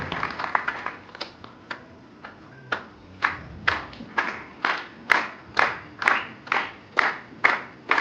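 An audience claps in a sparse, fairly steady rhythm of separate loud claps at close range, not a full roar of applause.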